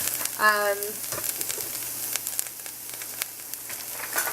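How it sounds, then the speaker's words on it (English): Cooked rice sizzles softly in a pan with softened carrots, a steady close frying hiss with scattered crackles, and a brief tonal beep near the start. "I'm just going to add in my rice now, and everything's nicely softened here"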